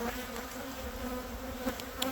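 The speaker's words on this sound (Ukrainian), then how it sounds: "Бджоли виглядають дуже гарно, нарешті мають пилок, носять вже десь приблизно тиждень." Honeybees drone in a dense, steady buzz close by at their hives in spring, a thick hum of many insects with no voices.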